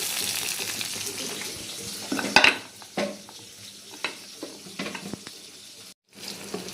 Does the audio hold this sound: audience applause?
no